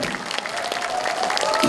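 Applause from an audience at a Democratic Party lecture in Gwangju, a dense patter of clapping mixed with a speaking voice, fairly steady and building slightly toward the end.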